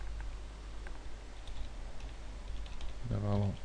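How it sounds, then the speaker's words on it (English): Computer keyboard typing at a desk: light, scattered key clicks at low level across a few seconds, with a voice speaking briefly at the end. "So we can here literally type"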